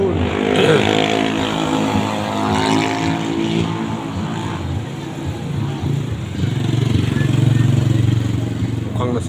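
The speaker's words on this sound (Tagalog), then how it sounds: "Mukhang inag-aayos sa motor." A motorcycle engine runs unevenly while being repaired on a street at night, a close, loud revving drone that rises and falls, with people talking around it.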